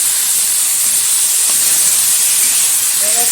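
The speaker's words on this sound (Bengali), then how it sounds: "শাকটা ডালের সাথে কিন্তু খুব সুন্দরভাবে আমি ভেজে নিচ্ছি।" Kulekhara greens frying with masoor dal in a pan give off a steady, loud, close hiss, like broad steam, that runs unbroken throughout and has no talk over it.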